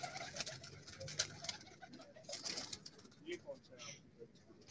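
Pigeons coo on a rooftop in soft, repeated throaty calls, fairly close but quiet, while people talk in the background.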